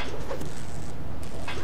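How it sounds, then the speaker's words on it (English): Pigeon or dove cooing in a video game, soft repeated coos over a steady ambient background, with no talking. "I don't care if the birds are angry at me."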